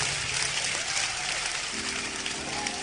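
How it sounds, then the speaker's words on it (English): A church congregation claps and applauds together in a dense, continuous wash of hand claps that fills the room, with voices faintly mixed beneath. "clap your hands and pray."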